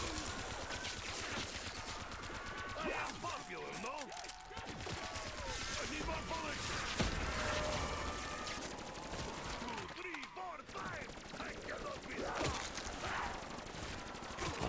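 Gunfire in Black Ops 3 Zombies, continuous rapid shooting in dense volleys, with game voices and other effects layered over it, pausing briefly twice before resuming.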